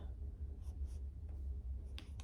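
A pencil scratches out a name on a short worksheet line in a few faint strokes over a low steady room hum, ending with a couple of sharper taps.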